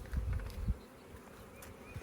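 Honey bees humming steadily inside a hive during a beekeeper's check for laying worker or queen problems, a continuous close drone with a few louder bumps early on.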